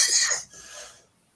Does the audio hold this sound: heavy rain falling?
no